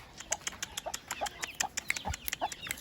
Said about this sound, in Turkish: Bugün evden, evdeki odada baktığım civcivler